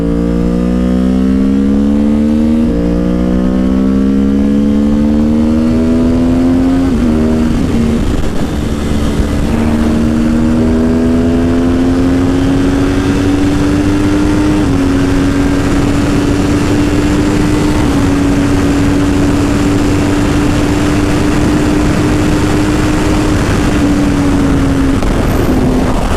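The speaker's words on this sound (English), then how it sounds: "this freaking bike just vibrates the soul" A motorcycle being ridden, its engine droning loudly and steadily as the pitch climbs through gear changes and then holds at cruising speed, heard close with wind noise and no talk.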